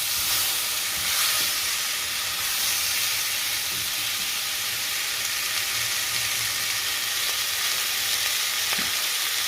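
Taco beef and onions fry in a pan with a constant loud hissing sizzle, up close, with a few faint clicks of stirring and no speech over it.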